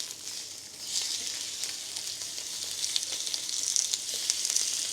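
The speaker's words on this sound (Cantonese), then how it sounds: "咁我而家煎咗佢分半鐘先" A black pork loin chop pan-fries in a hot pan, giving a steady bright sizzle with crackling pops that grow busier toward the end.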